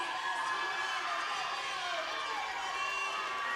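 At an indoor high school girls' swim meet, a team cheers its swimmer toward the finish, heard as a steady wash of crowd shouting and cheering echoing through the pool hall.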